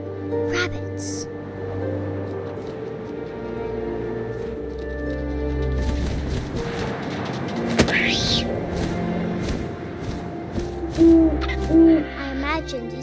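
An owl hooting in the video game What Remains of Edith Finch, several soft low hoots rising over wind and ambient game music while a voice narrates throughout.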